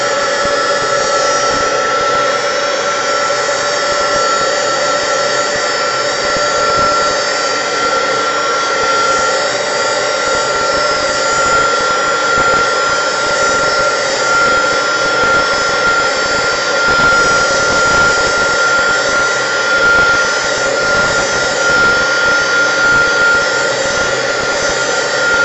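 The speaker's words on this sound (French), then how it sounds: "je vais venir sécher un petit peu au heat gun" A steady, loud blowing whoosh of a heat gun drying paint on a handmade card, running continuously up close, with a constant airy roar and faint whine.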